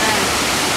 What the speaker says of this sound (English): Waterfall, all of them.